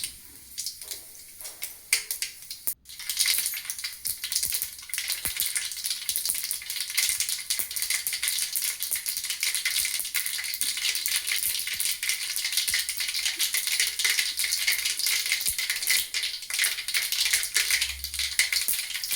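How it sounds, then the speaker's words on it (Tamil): Mustard seeds spluttering in hot oil in a kadai, a dense, steady crackle of tiny pops that runs for the whole clip after a brief quieter start, close and fairly loud, with no voices. "கடாயை வச்சுட்டு எண்ணெய் ஊற்றிப்போம் ஒரு ஐம்பது கிராம் கடுகு போட்டுப்போம் கடுகு வந்து நல்லா பொரியட்டும்"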